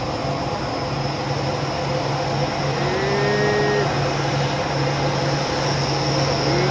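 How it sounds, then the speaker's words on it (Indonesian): Three trucks labour up a hill together, a loud continuous engine roar with steady low droning and a brief rising tone partway through. "Tiga unit menanjak bareng."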